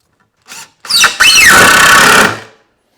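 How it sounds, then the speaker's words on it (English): A power drill drives a 2-inch sheetrock screw near the end of a wood board: a short whir, then a louder rising whine as the screw bites and spins in, stopping after about two seconds. "When you're screwing near the end of a board, it splits really easily."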